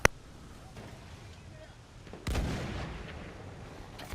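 A video game tank cannon fires twice: a sharp crack at the very start, then a heavier boom with a rumbling tail, both over faint background game noise.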